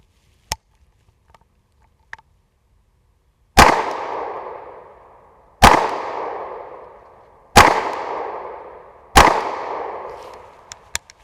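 Four loud, sharp shots from an IWI UZI Pro 9mm submachine gun at an outdoor range, fired singly at spaced intervals, each trailing off in echo, after a couple of faint earlier clicks.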